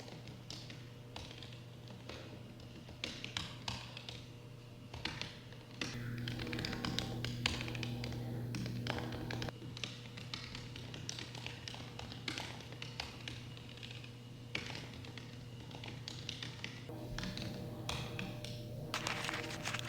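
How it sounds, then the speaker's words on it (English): Washing machine running in a home laundry, a steady low hum under scattered tapping and handling noises, faint and continuous in the background throughout. "If you can hear the laundry in the background,"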